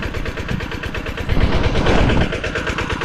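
An engine runs steadily at close range and loudly, a continuous chugging drone with a slight rise in the middle and no talk over it.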